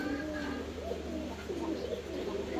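A pair of fancy short-face pigeons coo softly and close by, giving a few low, rolling calls over faint background hum, with no talking.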